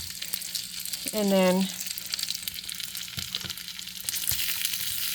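Bacon sizzling in a skillet, a steady crackle with stirring knocks and a brief whistling squeal near the start, while a voice speaks a couple of words.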